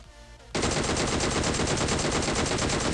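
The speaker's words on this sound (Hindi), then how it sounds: "तो उनको मैं यहाँ से फायर करता हूँ" Rapid automatic gunfire from the video game PUBG Mobile bursts in after a quieter half-second and then continues as a dense, loud, unbroken stream of shots to the end.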